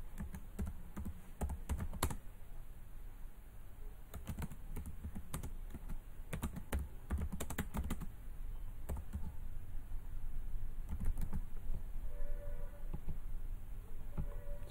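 Someone types on a PC keyboard, with close, quick clusters of key clicks in irregular bursts and short pauses over a steady faint background hum, with no voices.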